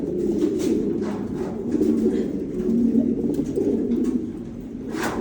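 A pigeon in a loft coos in low, throaty, rolling phrases that continue almost without pause, close and fairly loud, with a few faint chirps above and no talking.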